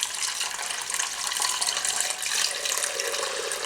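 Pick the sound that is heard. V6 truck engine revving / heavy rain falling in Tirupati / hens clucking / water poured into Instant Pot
water poured into Instant Pot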